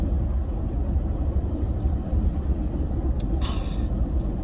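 A truck drives along the road, its cab filled with a steady low engine and road rumble, with a brief hiss near the end.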